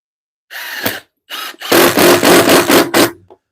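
A power drill drives 1.25-inch screws into a wooden workbench: short high whirring bursts, then a longer run of rapid pulsing as a screw bites and seats, loud and close, with no talk.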